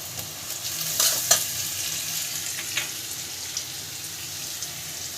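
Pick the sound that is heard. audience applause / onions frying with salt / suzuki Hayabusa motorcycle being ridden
onions frying with salt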